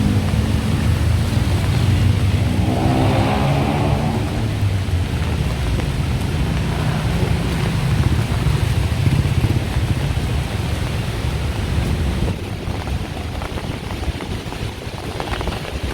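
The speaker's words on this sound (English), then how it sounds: "it started raining a bit again." Steady rain pours onto a Bangkok street at Soi 23 off Sukhumvit Road during a heavy thunderstorm, a dense continuous hiss with low rumbling underneath, loud and unbroken throughout.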